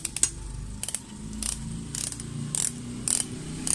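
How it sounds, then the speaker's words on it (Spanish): A ratchet fitted with a 7/16 socket tightens a bolt on a Volkswagen Beetle or Kombi, giving several bursts of quick, close clicking from the pawl at an uneven pace, with no talking. "vamos a utilizar una matraca y un dadito de 7-16"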